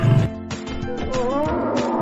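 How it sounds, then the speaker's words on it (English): A lion gives a short, rough roaring growl that opens loud and close, then trails into lower rumbling snarls, with no talking. "A lion lives in a cave."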